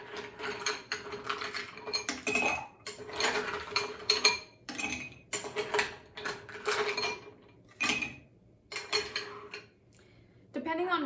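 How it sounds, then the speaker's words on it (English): Ice cubes tumble into a cocktail mixing glass holding equal parts of Negroni ingredients, giving a run of close, bright clinks and rattles in irregular bursts with short pauses, while a voice talks in between. "I'm just gonna toss in some ice"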